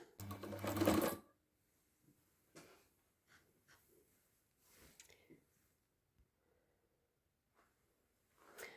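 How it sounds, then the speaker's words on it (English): Empisal Goldline Deluxe automatic sewing machine set to sew runs in a short, fairly loud burst of stitching at the start, followed by quieter intermittent handling noises and faint breaths. "you want it on sew, because we're going to sew with it."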